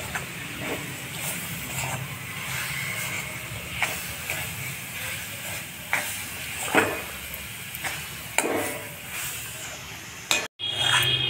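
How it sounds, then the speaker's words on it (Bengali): Grated jaggery being stirred into amla chutney in a pan, giving a steady sizzling hiss with scattered scraping knocks from the spoon at a close, moderate level. "এই গুড়টা দিয়ে অনবরত নাড়তে হবে।"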